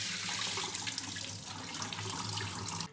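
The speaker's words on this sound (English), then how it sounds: "we're gonna empty this water." Rinse water being poured out of a pot holding brined corned beef, a steady rushing splash into a sink, close and fairly loud, with no talking.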